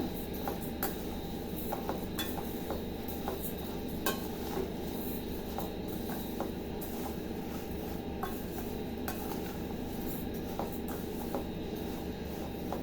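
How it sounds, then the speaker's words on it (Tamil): Vermicelli being dry-roasted in a pan over a low flame, with steady soft scraping and clinking of a utensil against the metal, a gentle continuous rustle broken by frequent small taps throughout. "வெர்மிசெல்லியை நம்ம கொஞ்சம் ரோஸ்ட் பண்ணிக்கலாம். நான் ஒரு பெரிய கிளாஸ் அளவுக்கு எடுத்திருக்கேன். சிம்மில் வச்சே வறுத்துக்குங்க."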